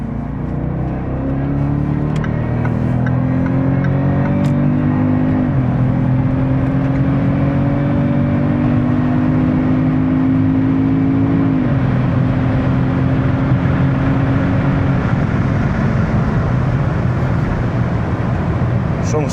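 A Jaguar XJR sedan cruising at high speed, its engine drone and road roar steady and loud from inside the cabin, with the engine note stepping down twice as it shifts gears.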